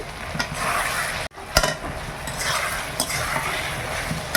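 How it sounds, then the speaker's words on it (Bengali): Chicken being sautéed (kosha) in a pan, with a continuous oily sizzle and the scrape of a spoon stirring the meat, broken by one brief pause and a sharp clank. "খুব সুন্দর কষানো হয়ে গেছে"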